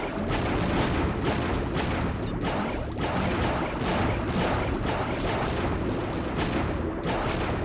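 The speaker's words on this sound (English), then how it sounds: "which shoots unlimited projectiles of some sort. They explode." Torpedo projectiles exploding in Crash Bandicoot 3, a rapid string of booming blasts pulsing at a steady rhythm over a dense, continuous roar.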